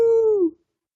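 A person's voice imitates a hound dog howl: a single sustained, tonal howl lasting about half a second that bends downward in pitch and cuts off, followed by silence.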